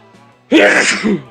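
A single sharp sneeze bursts out loud and close at a campsite in the woods, a brief intake followed by an explosive, breathy release.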